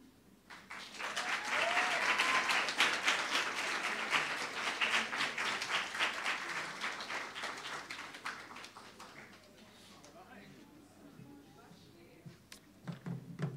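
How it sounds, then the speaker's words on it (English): Sustained applause from an audience for students at a journalism event, rising quickly, holding strong for several seconds, then slowly thinning into scattered claps, with a few stray hand claps and a faint voice at the close. "that applause looks like it needs a round two"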